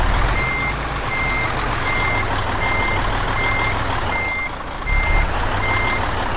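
A truck in Euro Truck Simulator 2 backing up a long trailer gives off steady, evenly spaced reversing beeps, about eight in a row, over a continuous low engine rumble with no talk.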